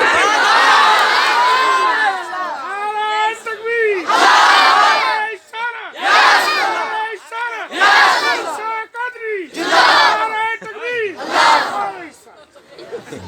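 A large crowd at a religious gathering shouts slogans in loud, rhythmic bursts, five or six waves of massed voices with short pauses between, close and forceful, with the call-and-response energy of a chanting assembly.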